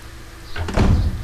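A door opens in the Resident Evil Remake video game: a soft creak, then a heavy low thunk with a brief rumbling swing, all within about a second and with no voices.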